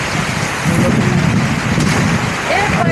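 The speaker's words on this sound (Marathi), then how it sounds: "पाऊस पूर्ण जोरात आला." Heavy monsoon rain pours down in a loud, dense, steady hiss close by, with a brief voice rising over the downpour near the end.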